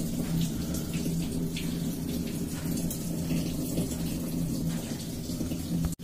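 Water gushes steadily into the tub of an LG top-loading washing machine during a tub-clean cycle, a continuous close hissing splash that cuts off abruptly at the end.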